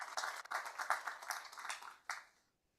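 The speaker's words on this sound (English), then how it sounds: "I would give Young another hand of applause here from Munich." A brief burst of applause from a symposium audience on brain connectivity in Munich, with a steady patter of clapping that stops, returns in one short final flurry, then fades to silence.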